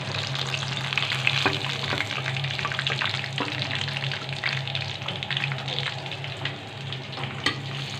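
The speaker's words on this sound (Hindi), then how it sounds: "इसी तरह हम बाकी सब भी फ्राई कर लेंगे" Chicken broast deep fries in hot oil with a dense, continuous crackling sizzle, close and fairly loud, and occasional louder pops and bubbling surges.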